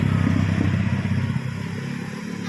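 Motorcycle engine idling steadily during repair work by a technician, a low continuous rumble with some clatter, alone without talk, easing slightly toward the end.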